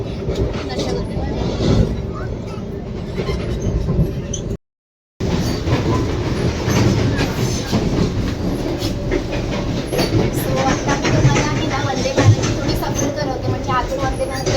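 A Vande Bharat express train travelling from Thane to Nashik Road rumbles steadily from inside the coach, with continuous wheel clatter and rhythmic clicks over the rails and a short drop-out partway through.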